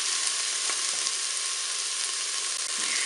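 Peppers added to onion pieces fry in a Cookeo multicooker, a steady, even sizzle and hiss with a couple of faint knocks and no voices.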